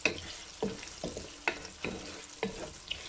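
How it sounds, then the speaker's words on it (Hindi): Garlic and ginger frying with onion in a pan, a soft sizzle broken by about seven rhythmic spatula strokes scraping and stirring, close and moderately loud with no voices. "साथ ही हम लहसुन अदरक, और इनको 2 से 3 मिनट तक अच्छे से हम इसमें फ्राई कर लेंगे।"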